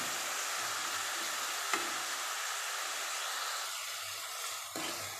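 Onions sautéing in a pan for a mutton and jackfruit side dish, a steady hissing sizzle with a few soft stirring knocks, moderately quiet and without talk.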